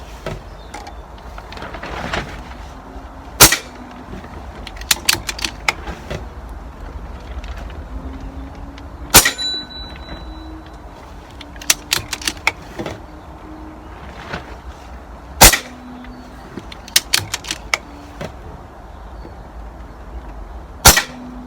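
An air rifle fires Hades pellets: four loud, sharp cracks come several seconds apart, mixed with quieter clicks and handling noises, outdoors and close by.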